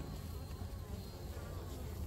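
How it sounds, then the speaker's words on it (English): Inside a Layens hive, a mass of honeybees keeps up an even, close buzzing hum, unbroken and steady, with no one speaking. "Bunch of bees in there"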